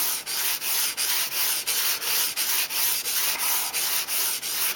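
A chipped kitchen knife is stroked along its bevel on sandpaper, giving a steady, close rasping rhythm of about a dozen even strokes with brief gaps between them, and no voices.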